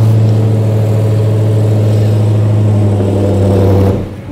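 A powerful 707-horsepower car engine rumbles loudly up close at a deep, steady idle, then cuts off abruptly near the end.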